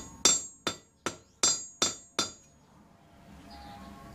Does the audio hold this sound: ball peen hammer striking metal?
yes